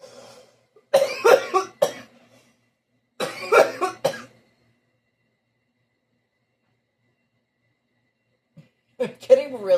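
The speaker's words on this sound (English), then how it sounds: "I'm getting really irritated with this coughing" Several bursts of harsh, close coughing come in clusters, separated by silent pauses, with another short fit at the end.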